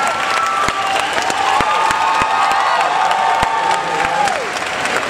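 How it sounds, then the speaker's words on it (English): A fan-event crowd in Paris bursts into sustained applause for actor Tyler Hoechlin, dense clapping mixed with cheers and whoops that stays loud and steady throughout. "On fait un tonnerre d'applaudissements pour Tyler Hoechlin, s'il vous plaît"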